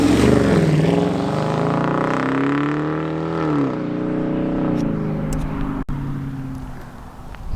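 A stock 2020 Dodge Challenger R/T with the 5.7L HEMI V8 revs loudly and close up, its tone climbing and falling across two strong pulls before easing into a steady drone, with no talking.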